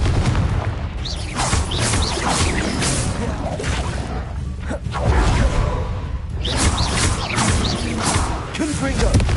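Fire-blast spell explosions in the Hogwarts Legacy video game, with booming blasts and whooshing bursts repeating through combat, loud and dense, mixed with a voice shouting spell names.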